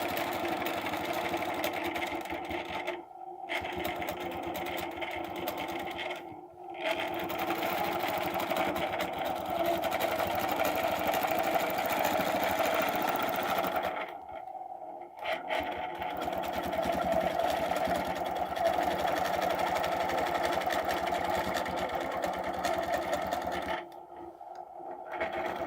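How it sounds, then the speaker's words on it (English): A sewing machine stitches steadily across a template design in long continuous runs, breaking off with brief pauses between passes, close and fairly loud with no talking. "And now I can stitch all the way across."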